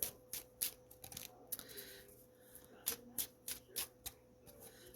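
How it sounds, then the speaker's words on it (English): Cards are shuffled in quick, crisp bursts of riffling and flicking, close by, with short pauses between them and no talking. "one kind of flipped over while I was shuffling"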